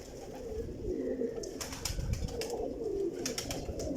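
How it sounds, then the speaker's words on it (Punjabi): Teddy pigeons cooing close by, soft repeated low rolling coos with a few brief higher chirps and rustles, fairly quiet and without talk. "ਇਹ ਟੈਡੀ ਕਬੂਤਰ ਜੀ"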